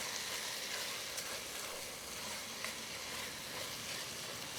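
Carne guisada mixture with tomato paste sizzling steadily in a pan as it is stirred, a dense continuous hiss close by with faint scraping, no voices.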